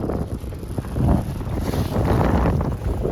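Steady wind roars and buffets across the microphone aboard a sailboat out on Puget Sound, with broadband gusting that swells louder midway and stays strong, water and hull noise blended underneath.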